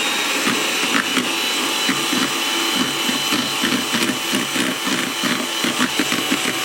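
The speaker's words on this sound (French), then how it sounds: "Dès qu'on atteint plus de 115 degrés, on vient ici battre les blancs d'œufs." Electric mixer whisking egg whites into meringue while hot sugar syrup is poured in: a loud, steady motor whir with a rhythmic beating pulse, continuous and close, with no talk.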